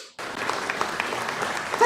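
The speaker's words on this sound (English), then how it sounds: "Thank you for the applause" Applause starts abruptly, a steady wash of clapping hands from a crowd that holds evenly for under two seconds.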